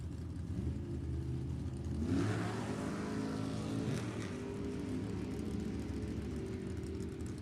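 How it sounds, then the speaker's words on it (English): A 1923 Ford Roadster and a Camaro make a drag strip pass in an NHRA E.T. bracket final, a steady roar of engines at a distance that swells briefly as they rev and speed by, then holds. "Mallory left side, 620 the dial in, the 23 Ford Roadster. Right side, Stanley the Camaro, 623"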